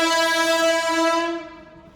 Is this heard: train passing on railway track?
yes